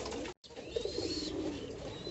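Pigeons with a cold coo softly on a rooftop, their low, repeated calls close by over faint background noise, with a brief dropout near the start.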